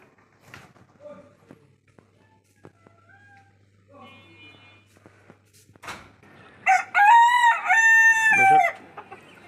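Chickens and a rooster kept on a house rooftop; after faint, scattered clucks and soft background sound, the rooster crows loudly and close in two long, strained calls near the end.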